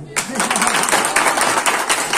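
Audience clapping after a magician's silk scarf (foulard) trick, a burst of dense applause starting abruptly and carrying on steadily, with a voice audible underneath.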